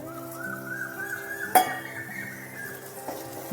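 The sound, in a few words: stirring mung dal mixture in a pot after adding water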